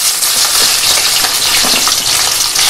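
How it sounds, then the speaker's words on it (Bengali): Chopped onions frying hard in hot oil with bay leaf and dried red chilli for a mutton curry, a loud, dense, continuous sizzle heard up close with no talk. "পেঁয়াজগুলোকে ভালো করে ভেজে নিতে হবে"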